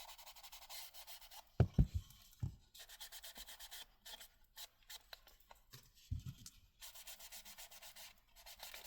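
Edges of a fabric paperback book cover being distressed: quiet rubbing and scraping strokes come in uneven bursts, with a couple of sharper handling knocks between them, close up and faint.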